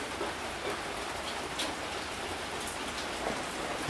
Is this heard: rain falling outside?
yes